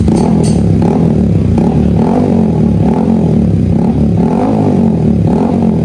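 A Yamaha XSR155 with a VMAX Orion full-system exhaust and an inlet resonator silencer fitted revs loudly and close, its deep exhaust note swelling and falling in repeated throttle blips.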